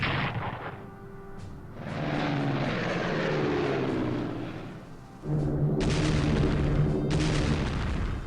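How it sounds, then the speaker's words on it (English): Bombers attacking in the WWII strategy game Strategic Command 1939, a loud droning aircraft engine with rumbling blasts, easing briefly before a second heavy wave of engine roar and explosions. "Oh, they attacked my bombers."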